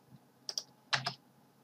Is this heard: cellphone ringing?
no